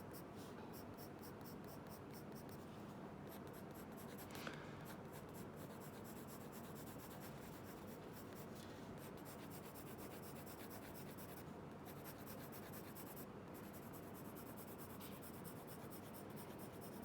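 Graphite pencil shading a cube drawing on paper, a steady soft scratchy rasp of continuous back-and-forth strokes running throughout, close and fairly quiet with no talking.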